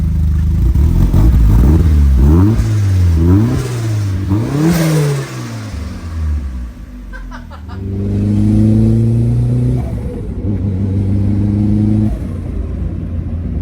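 Mazda MX-5 fitted with a Kraken turbo kit, exhaust revving up and down in several loud, rising and falling bursts, then settling into a steady high rev near the tailpipe, with no voices.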